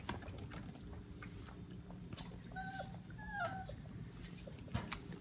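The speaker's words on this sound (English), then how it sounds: "Look at the pretty puppies." Seven-week-old puppies whimper and yip in short, faint high cries scattered over a steady low background rumble, with a brief sharper yelp near the end.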